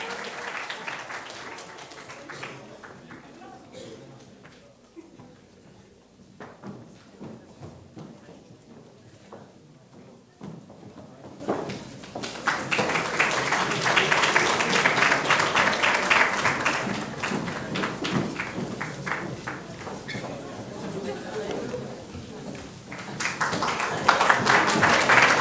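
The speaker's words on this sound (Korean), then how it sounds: "네, 박수 부탁드리겠습니다." An audience at a presentation competition's closing award ceremony applauds, starting softly and then swelling into loud, sustained clapping for the last half, with no talk over it.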